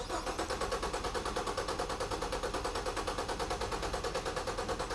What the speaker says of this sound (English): So let's have Jimmy crank it over and see what we get.